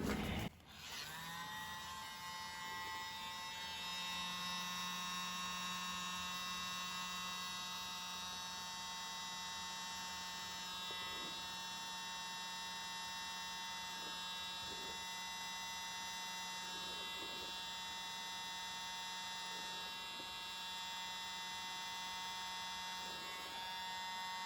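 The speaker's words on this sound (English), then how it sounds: "my mini blower with my attachment." A mini electric blower with an attachment runs steadily for the whole stretch, a close, continuous high-pitched whirring hum with a bright tonal whine, used on acrylic paint pouring work.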